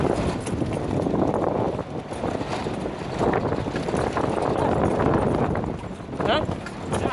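Hooves of an Arabian horse ridden bareback clop in a rapid, steady rhythm across the whole stretch, nearby and fairly loud, mixed with wind and broadband outdoor noise.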